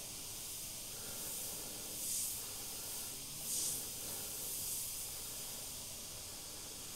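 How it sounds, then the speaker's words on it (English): Cheap airbrush spraying 70-30 thinned paint at 18 to 20 PSI, a steady close hiss running throughout with two brief louder bursts as the trigger is pulled back further. "this 18 to 20 PSI with that 70-30 seems to be a lot better for this particular cheaper airbrush"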